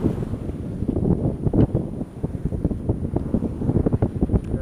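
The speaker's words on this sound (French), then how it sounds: "on a le vent plein fer. 16 nœuds de vent là." Strong wind at sea, about 16 knots, buffets the microphone in loud, continuous gusts, with a rough, rushing roar from start to finish.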